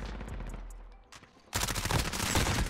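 Rapid automatic gunfire in a first-person shooter, a few scattered shots at first and then a loud sustained burst of fire.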